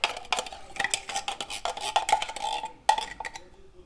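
Stuffed cabbage filling is mixed in a bowl, a run of close, irregular clinks and scrapes of utensil against dish.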